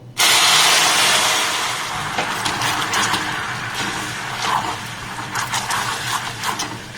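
A little water hitting hot melted sugar caramel in a steel bowl, bursting into a loud sudden hiss and spray of steam that slowly fades into a bubbling sizzle, without any talking.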